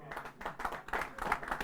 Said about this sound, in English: Gets a ripple of applause and he claps back.